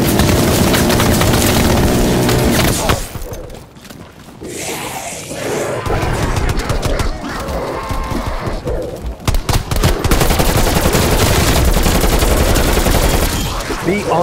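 Heavy machine-gun fire in Call of Duty: Cold War, loud and dense bursts filling most of the stretch, breaking briefly into scattered crashes and splintering impacts before resuming.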